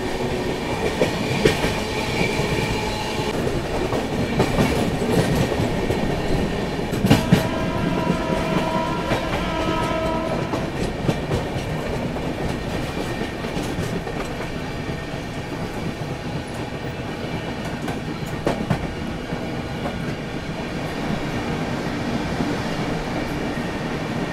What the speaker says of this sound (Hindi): राजधानी एक्सप्रेस में बैठे हैं